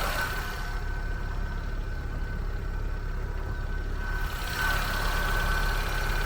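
A 1997 Daihatsu Terios CX with a 1.3-litre four-cylinder engine idling, a steady low hum heard close up, unchanging throughout, with a slight shift in tone near the end and no speech.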